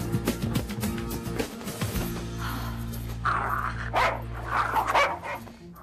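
A dog on the loose in a French romantic comedy barks and yips several times at close range, with a few whimpers between the sharp bursts.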